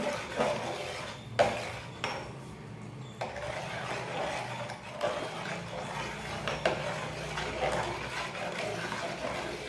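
A spoon scrapes and clinks against a metal pot, stirring an onion mixture in irregular strokes, with soft sizzling underneath, close and moderately loud.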